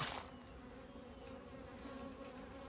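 Honeybees buzz steadily as they fly actively in and out of hives in a summer apiary, a continuous close drone with a bright high whine running throughout and no voices.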